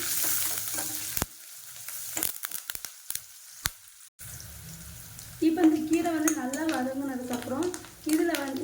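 Steady close sizzle of onions and curry leaves sautéing in a pan, with sharp clicks and scrapes of stirring, and a voice speaking over the later part.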